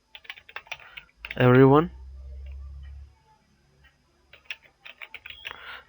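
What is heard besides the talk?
typing on a computer keyboard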